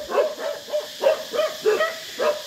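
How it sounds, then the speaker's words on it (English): Several dogs bark in a loose, repeated rhythm of about seven sharp, moderately close barks over a hillside hiking trail in Phuket, Thailand, with no talking. "And the dogs are barking up a cacophony."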